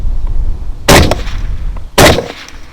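Two loud, sharp rifle shots fired at hogs, spaced about a second apart, each a sudden crack with a short echoing tail over quiet outdoor background.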